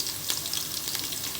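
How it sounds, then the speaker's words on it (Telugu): Ginger garlic paste fries in hot oil in a pan alongside fenugreek leaves for a chicken curry, making a steady, dense crackling sizzle close by. "అల్లం వెల్లుల్లి వేసాము."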